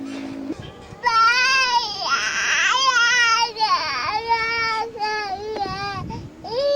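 A baby cries loudly and close by in long, wailing sobs with brief catches of breath, continuing throughout with no other sound competing.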